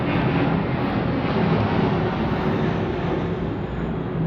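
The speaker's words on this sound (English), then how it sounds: "I'm gonna wait for the plane and do that over again" Steady, continuous roar of an airplane passing overhead outdoors, loud broadband rumble holding at an even level throughout with no talk.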